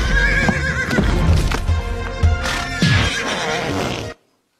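A horse neighs loudly several times while hooves clip-clop in a steady rhythm close by, then the sound cuts off abruptly into silence.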